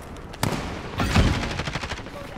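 AK-47 fire in Call of Duty Modern Warfare multiplayer, a sharp single shot followed by a longer rapid burst of roughly a dozen rounds, loud and close.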